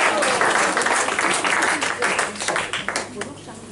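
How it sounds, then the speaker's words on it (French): Audience applause at a world music concert, a crowd clapping steadily with a voice speaking over it, the clapping fading somewhat toward the end. "Vous pouvez l'applaudir"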